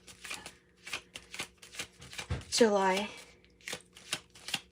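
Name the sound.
shuffling tarot cards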